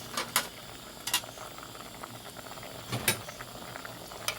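A pot of tom kha gai, Thai chicken galangal soup, bubbles at a boil, with faint continuous simmering and occasional sharper clicks and pops close by.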